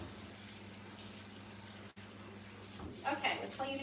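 Tap water runs steadily into a kitchen sink while a cloth is rinsed, a constant close rush with a brief break, and a voice speaks over it near the end.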